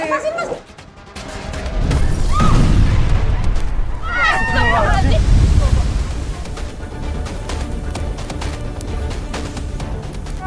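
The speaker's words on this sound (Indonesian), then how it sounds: "Itu suara ledakan." An explosion in an Indonesian drama, a loud heavy boom with crashing debris and a sustained rumble, with people shouting over it.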